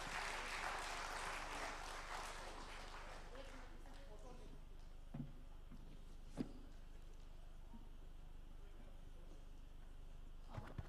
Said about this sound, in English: let's have at least 7 claps for all of them